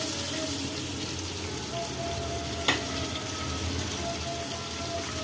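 Onion paste sizzling in hot oil with cumin seeds in a pan, a steady close frying hiss with one brief sharp clink midway.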